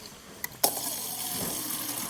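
Water poured into a pan while a steak cooks, a brief splash and gush followed by a steady sizzling, filling wash that holds at moderate loudness.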